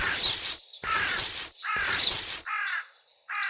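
A crow caws repeatedly, several harsh loud calls in a steady rhythm, close by, with no other sounds between them.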